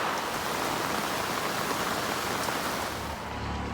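Rain falls steadily on a sailboat riding at anchor in a bay, a dense, even hiss of drops close by that continues unbroken and alone.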